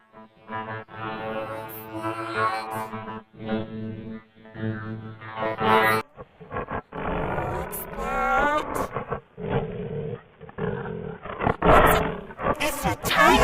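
A tiger roaring in repeated deep, growling bursts, loud and close with a processed, distorted edge, alternating with excited voices talking between the roars.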